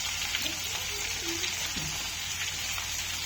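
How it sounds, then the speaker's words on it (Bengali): Potatoes frying with onion in a home kitchen pan, a steady broadband sizzle throughout with faint voices and household sounds underneath. "আর এটা একটু ভাজা হোক পেঁয়াজের সঙ্গে"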